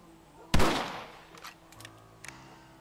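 A single sharp rifle shot from the Red Dead Redemption video game cracks out loud and close, its blast decaying over a second, followed by a few fainter clicks and thuds, with no talk over it.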